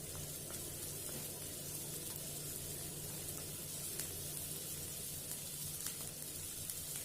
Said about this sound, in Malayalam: ഇനി അതിലേക്ക് ഒരു സവാള ചേർത്ത് കൊടുക്കണം. ഇനി ഇതൊന്ന് വഴറ്റിയെടുക്കണം.